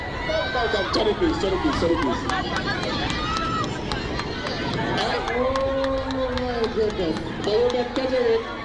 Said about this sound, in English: The crowd is buzzing all now.